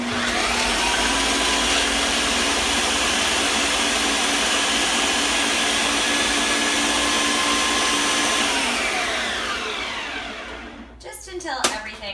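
A food processor chops almonds and carrots for a vegan coleslaw, its motor whirring loud and steady for about ten seconds before cutting off, followed by a few clattering knocks of the bowl.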